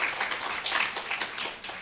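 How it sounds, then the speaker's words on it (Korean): Congregation applauding to welcome a pastor in a church service, dense, steady clapping from many hands at moderate loudness throughout. "박수로 한번 환영하고 축복"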